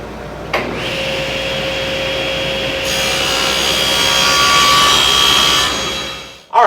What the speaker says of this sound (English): So right now, I'm going to cut all these blanks out.